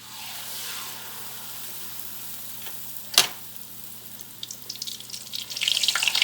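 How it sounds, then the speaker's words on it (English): Frybread dough sizzles in hot oil, a steady close frying hiss with one sharp splatter midway and rising crackle toward the end; no voices. "Now put it in the oil."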